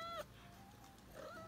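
A pet cat meows faintly indoors, one short meow at the start and another drawn-out one near the end, with quiet room noise between.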